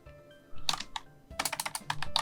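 Typing on a computer keyboard, a short burst of key clicks followed by a quicker run of about ten close, crisp keystrokes over quiet background.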